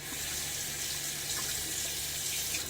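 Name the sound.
tap water running for rinsing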